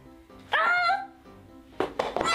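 A dog barking nearby, two loud separate bursts a second or so apart, the second a quick double bark, with quiet room sound in between.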